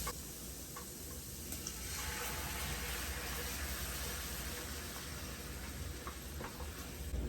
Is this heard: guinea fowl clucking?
no